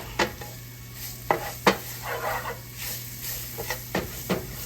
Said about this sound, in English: You want to cook that flour taste out of there.